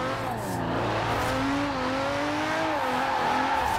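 A Ferrari 250 GTO in Forza Horizon 4 pulling hard in first gear, its engine note climbing and wavering steadily as it revs, loud and close throughout with a hint of tire noise.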